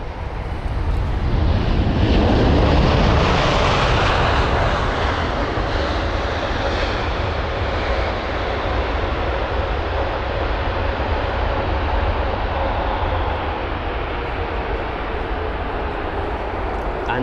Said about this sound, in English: WS18, a WestJet 7879 Dreamliner with the reg Charlie Golf Uniform Romeo Papa, or CGURP, and it was the arrival from Calgary